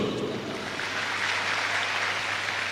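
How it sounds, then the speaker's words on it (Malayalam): An audience claps through a steady, dense burst of applause that holds at an even level from start to finish, with no talking over it. "കൈയടിച്ചോളൂ"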